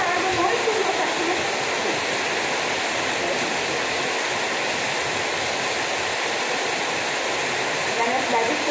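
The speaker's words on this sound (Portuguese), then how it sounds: "Na minha cidade está chovendo muito." Heavy rain pours steadily during a rainy day at home in the city, a dense, continuous hiss of water that stays loud and even throughout with no talk.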